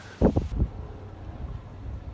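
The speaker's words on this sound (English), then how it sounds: "you're gonna complain because it's windy and I don't have a mic" Low, gusty rumbling of wind buffeting the microphone in a few strong bursts, then settling into a softer, steady blustery noise.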